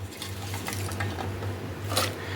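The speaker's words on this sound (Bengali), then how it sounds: "এই রকম পরিমাণ জল আমি দিয়ে দিলাম" Water poured into a pan of soaking matar dal being cooked with pumpkin greens; a steady, close splashing pour runs continuously for a couple of seconds, with no talking.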